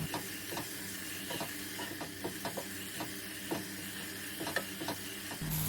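Green chillies and curry leaves sauté in a pan for Kerala puli inji, a quiet continuous hiss and sizzle with a regular series of light spatula taps and scrapes, near and faint, no voices.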